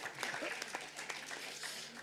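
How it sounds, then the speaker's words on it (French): Audience applause at a talk, a faint, steady patter of many hands clapping heard from a distance. "On peut applaudir."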